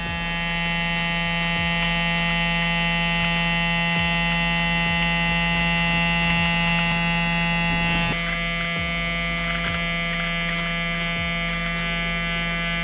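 An electric beard trimmer buzzes steadily and loudly close by while trimming a mustache, its constant motor whine shifting slightly in tone as it presses against the hair, with no talking.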